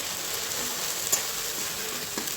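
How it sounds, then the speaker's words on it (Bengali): Onion, tomato and chili paste masala sizzles steadily in a pan, a soft continuous frying hiss with a few faint stirring clicks and no talk. "যেহেতু আমার সব কিছু ভাজা, ওই জন্য এটা আমি ভালোভাবে কষিয়ে নেবো এখন।"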